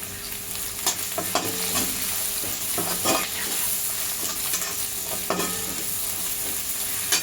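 Vegetables for veg noodles stir-fried in a hot pan, a loud steady sizzle with repeated scraping stirs at an uneven rhythm, close up with no one speaking.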